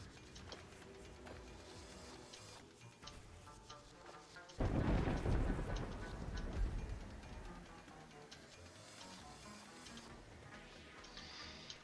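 Terraria video game thunderstorm: steady rain hiss with a loud rumbling thunder crash midway that slowly fades back into the rainfall.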